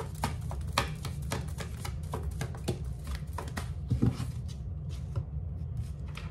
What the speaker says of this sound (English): Just pulling some Oracle cards